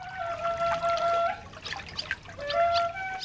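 Water of the Brahmaputra river flows near Majuli island in a steady trickling, pouring wash, with thin high tonal chirps running through it.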